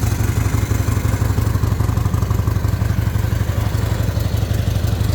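A Harley-Davidson Shovelhead motorcycle engine fitted with a CV carburetor idles up close, its low, steady, loping thump running evenly throughout with a mechanical clatter on top and no talking.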